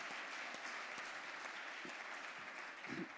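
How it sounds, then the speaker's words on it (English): Audience applause at a startup showcase fills the room as a dense, even wash of clapping. It sounds somewhat distant and quiet, with a few louder individual claps near the end. "I want to give them a big round of applause"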